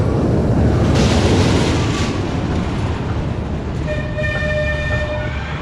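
A train rushes past with a broad roaring wash of noise, then a steady whine lingers as it pulls away; no one speaks.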